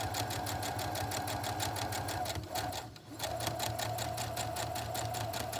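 A sewing machine stitches fabric for a mask with a fast, even, rhythmic clatter, pausing briefly midway before carrying on at the same pace.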